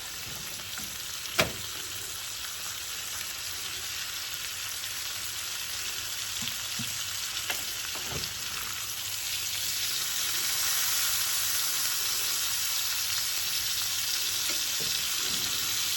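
Liver and onions fry in a pan with a long, even sizzle that gradually grows a little louder, with a few sharp clicks and spatters scattered through it.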